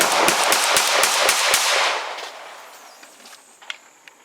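A PM-63 Rak 9x18 pistol empties a full magazine of Silver Bear ammunition in one fast, loud burst of sharp cracks, then the echo fades into quiet outdoor ambience with a few faint clinks.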